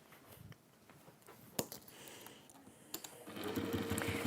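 A sewing machine stitches a quarter-inch seam around a fabric and PU/cork journal cover, faint scattered clicks giving way to a steadier, louder mechanical whir at the end.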